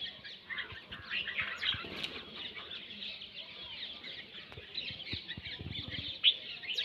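Small bulbul birds chirp and flap their wings while eating roti crumbs, giving a steady chatter of close, bright tweets with brief fluttery wingbeats throughout.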